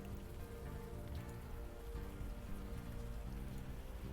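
Steady rain falls in the video game Unavowed, a dense, even patter of drops on a surface that runs without a break for the whole stretch, with no voices over it.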